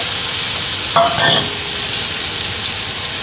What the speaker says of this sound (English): we're gonna get in here and flip the steak